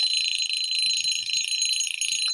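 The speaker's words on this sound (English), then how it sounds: "that alarm is really aggressive" Loud alarm going off, a harsh continuous high-pitched beeping tone close and dominant, with faint rustling beneath.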